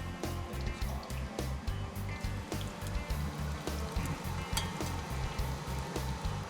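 Walleye fillets frying for tacos, a steady close sizzle and bubble of oil with a fast pulsing crackle running throughout, no voices.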